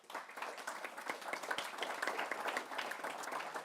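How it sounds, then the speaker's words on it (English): An audience in a conference room claps for the panelists after an energy storage discussion, a dense, even round of applause lasting a few seconds at moderate distance. "How about a round of applause for them?"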